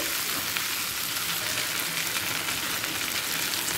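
Ginger-garlic paste frying in hot oil with marinated paneer for a Durga Puja non-veg paneer dish, giving a steady loud sizzle that runs without a break throughout, with a faint stir now and then and no talking.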